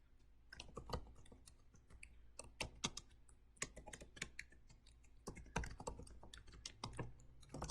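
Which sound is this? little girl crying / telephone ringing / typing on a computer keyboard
typing on a computer keyboard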